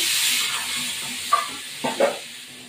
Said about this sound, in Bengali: আলুটাকে ভাজতে হবে।